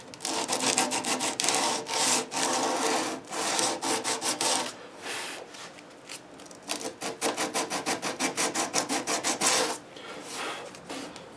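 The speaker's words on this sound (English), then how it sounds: "We'll take all that craggy stuff off in a hurry with the 80 grit." Rapid rasping strokes of 80 grit sandpaper scrubbing rough wood on a 10-string classical guitar, close and steady, with bursts of quick back-and-forth rubs and brief pauses between runs.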